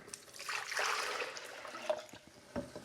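Water pouring from a Berkey water filtration system into a container in place of a glass, a steady broadband splash and trickle heard up close and fairly loud, with no talking.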